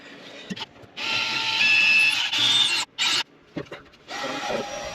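Drill boring an extra hole in a boat cabin for a rotated porthole, high whining bursts starting and stopping several times, close and loud, with short pauses between runs.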